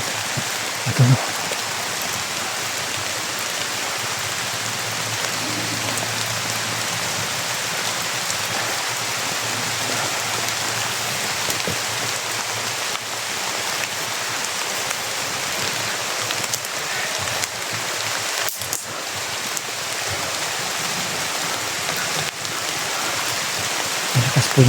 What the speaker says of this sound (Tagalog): Malakas po yung ulan mga tol.